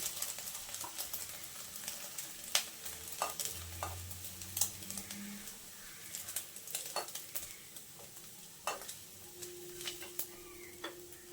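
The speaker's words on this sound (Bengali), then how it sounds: "ডিমটা আমি আরেকটু লাল করে ভেজে নেব" Chopped egg frying in oil in a pan, with a low continuous sizzle and frequent crisp ticks and pops, plus occasional spatula scrapes.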